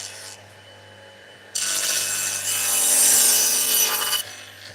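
Pallet wood is hand-sawn to length, starting with a short rasping stroke, then after a pause a sustained run of loud, close back-and-forth cuts for nearly three seconds before stopping.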